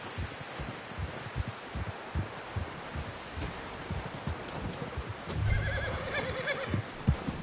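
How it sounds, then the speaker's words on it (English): A horse neighs and whinnies in the video game Red Dead Redemption 2 among a steady patter of hoofbeats over a constant background hiss, with a louder thud near the end. "Someone help John down off this horse."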